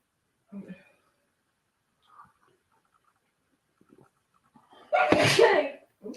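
A single loud, sharp sneeze bursts out near the end, after a few faint murmurs and small sounds in an otherwise quiet indoor room.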